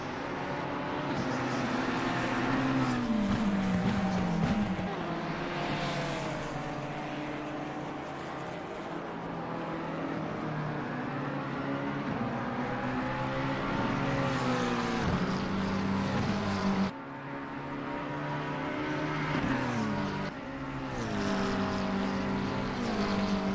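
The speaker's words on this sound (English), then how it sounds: "You can hear just where you go down the gears there." Race car engines in Assetto Corsa Competizione at Suzuka, including a McLaren GT car, scream continuously with rising and falling pitch, abrupt drops marking downshifts as the revs blip down, close and loud.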